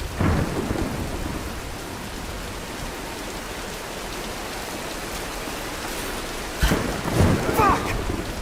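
Steady rain pours through a thunderstorm in the Tomb Raider video game, with a sharp crack and rumble of thunder near the end and brief talk over the downpour.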